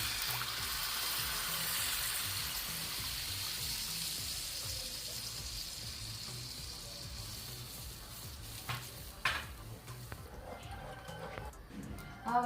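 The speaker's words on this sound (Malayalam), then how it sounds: "ഇനി ഇതിലേക്ക് 2-ാം പാൽ ഒഴിക്കുവാണ്." Second-press coconut milk is poured into a hot pan of Kerala-style fish molee, giving a steady close hiss and sizzle that slowly fades, followed by a few soft clinks and stirring sounds.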